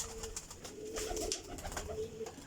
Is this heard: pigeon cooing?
yes